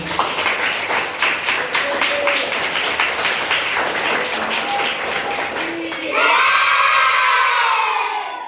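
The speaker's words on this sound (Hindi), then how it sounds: "जोरदार ताली बजाइए।" Schoolchildren in a Jawahar Navodaya Vidyalaya entrance-prep class break into loud rhythmic clapping and shouting, the claps quick and even before giving way to a burst of excited children's voices at the end.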